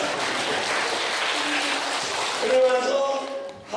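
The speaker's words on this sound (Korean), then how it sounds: "박수 한번 쳐주시다" A church congregation at a national revival meeting claps together, a broad sustained applause that carries on for several seconds before a few voices and a sung tone rise over it near the end.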